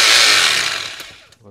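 A Nocord NHD 800 rotary hammer drilling under pressure with a faulty hammer action that fails to strike, a loud steady whirring motor whine that quickly winds down and stops.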